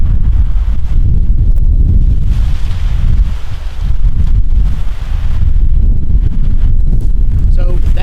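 Strong outdoor wind buffets the microphone in a continuous loud low rumble, dipping briefly near the middle before surging again, with no other clear sound.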